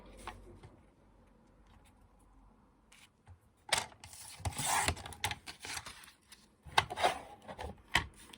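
Paper for a scrapbook card being cut to size, at first quiet, then a run of close, rasping cutting strokes and rustles in uneven bursts.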